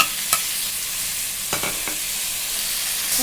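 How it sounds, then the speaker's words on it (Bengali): Egg and green banana frying in a pan while being stirred, a steady sizzle with a few sharp scrapes of the spoon against the pan, close and alone. "ডিম কাঁচকলা দিয়ে একটু ভাজা ভাজা করে দেখো লাল লাল করে ভাজা দেওয়া হলো"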